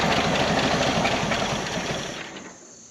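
A 1979 Jeep abandoned for over thirty years, cranking with a fuel pump spinning, gives a fast, steady mechanical churning whir, close and loud, that fades off near the end.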